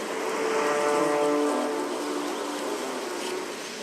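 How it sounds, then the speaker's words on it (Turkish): A dense, steady droning buzz of many honeybees swarming close by as smoke drives them out, loud and continuous with a low hum running throughout. "Duman arıları dışarı çıkarıyor."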